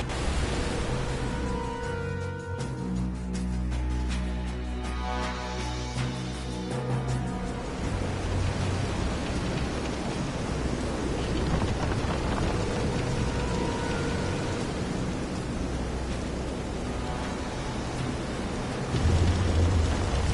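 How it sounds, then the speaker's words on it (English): Video game thunderstorm with heavy, steady rain hiss and low rumbling thunder, loud and continuous throughout with no talking. "This is some storm."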